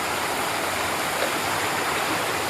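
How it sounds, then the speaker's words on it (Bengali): Close, continuous rushing of stream water flowing over rocks near a hidden waterfall in Samparidisha village, Assam, a dense steady wash with no breaks. "এই জলটা আমরা পেরোবো এখন।"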